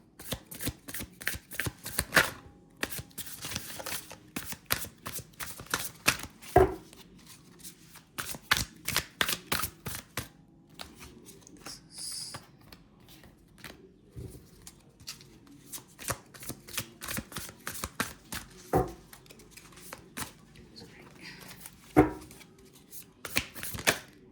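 Tarot cards being shuffled up close, a long run of repeated crisp riffling and tapping bursts in an irregular rhythm with brief pauses between.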